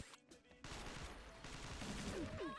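Heavy gunfire in the XSHOT first-person shooter, a cargo-port bomb-mode match: dense, sustained bursts of shots roaring through most of the stretch after a brief quieter start, loud and close.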